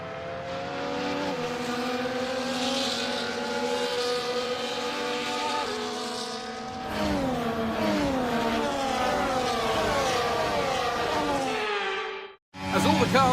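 F1 24 Formula 1 cars running the formation lap before the Miami sprint, a steady loud engine drone with shifting revs throughout, a brief drop near the end, with a commentator talking over it.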